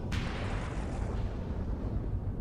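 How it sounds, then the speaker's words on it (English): Weapons fire from a space battle in the strategy game Stellaris, where two battleships engage near a damaged station: a sharp burst at the start, then a dense, steady rumbling roar of continuous fire, loud and unbroken. "looks like we're about to have a bit of a space battle over here as well"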